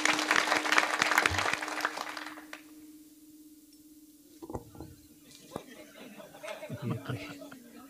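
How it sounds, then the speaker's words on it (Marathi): Loud audience clapping at a Marathi kirtan, a devotional singing-and-storytelling gathering, fills the first two and a half seconds, then fades into a quiet room with scattered soft sounds and a few faint voices. "मुलींसाठी सर्वांनी एकदा जोरदार टाळ्या वाजवायला सांगा."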